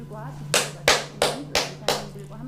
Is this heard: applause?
yes